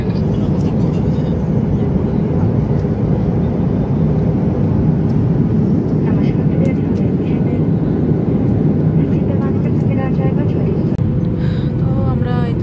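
Airliner cabin on final approach into Kolkata on a Siliguri–Kolkata flight: a loud, continuous low engine drone and airflow roar fills the cabin, with brief higher whines and voices speaking over it.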